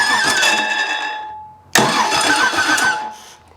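A car engine cranks and fires up on a newly installed starter, first a sustained whirring crank, then a sharp catch into a loud running roar that fades slightly toward the end.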